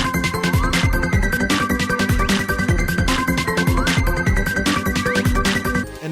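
Bonus time music from the mobile video game Cookie Run, a bright, busy looping tune with steady beats and rapid melodic runs, playing loudly and continuously with no talking.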